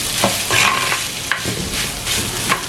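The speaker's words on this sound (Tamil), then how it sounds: "போட்டுட்டு இதை நல்லா மிக்ஸ் பண்ணி விடுங்க." Banana blossom being stir-fried with dried red chillies in a pan, a constant close sizzle with a few scraping stirs as it is mixed, with no voices.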